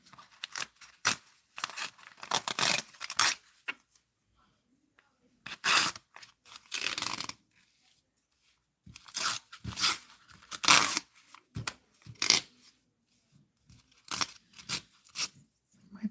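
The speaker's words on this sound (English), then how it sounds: "I used a seam ripper, but in any case, here's the satisfying part of it." Seam ripper unpicking stitches from fabric letters for birthday bunting, making close crisp snipping and tearing bursts in irregular clusters with short quiet pauses between.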